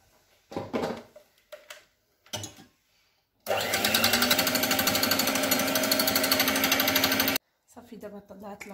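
Electric mixer whipping cream for a praline and chocolate mousse celebration cake, a loud continuous motor whir running for about four seconds between brief kitchen clatter and voices.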